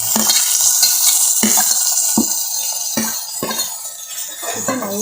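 Tomatoes fry in hot oil for a Tamil fish curry, a loud close sizzle broken by repeated scraping stirs of a spoon against the pan at a steady rhythm.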